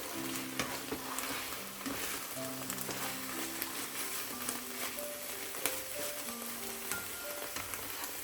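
Spinach fries in an open pan for a Bengali-style shak bhaji, a steady close sizzle with scraping stirs and occasional sharp pops and spatters throughout, no voices.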